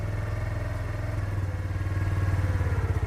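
Motorbike engine held at raised revs, around 3,000 rpm, with the front brake pulled, a steady close chugging drone with a fast even pulse that swells slightly louder near the end.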